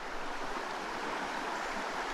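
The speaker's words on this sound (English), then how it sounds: "Golly, this river's pretty." Broadband rushing of a pretty river stream flowing at a trout fishing spot, steady and moderately loud throughout with no talk.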